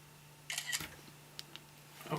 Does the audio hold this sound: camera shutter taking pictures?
yes